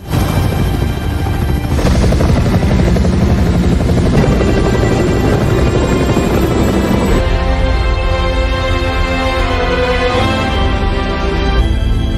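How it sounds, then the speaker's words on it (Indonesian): Loud, close helicopter rotor thudding in rapid steady rhythm with a whining engine, overlapping as two evacuation helicopters approach, filling the whole stretch. "Tak lama kemudian, 2 helikopter evakuasi tambahan datang"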